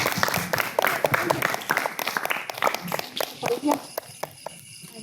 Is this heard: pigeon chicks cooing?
no